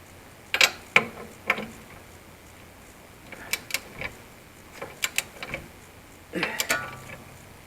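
A torque wrench tightens the rear shock absorber bolt on a 2016-2017 Lexus IS, giving short bursts of sharp mechanical ratcheting clicks spread across a quiet garage, close by, with no speech.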